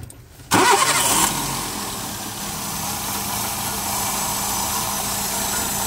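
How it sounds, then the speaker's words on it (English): A 2007 Toyota Yaris with multiple misfires cranks briefly and catches, then settles into a steady, close idle hum that continues alone. "So start the engine, yeah? Start the engine"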